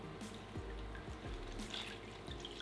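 Water running and dripping from soaked gelatin sheets as they are squeezed out by hand, a quiet, steady trickle with small drips and splashes.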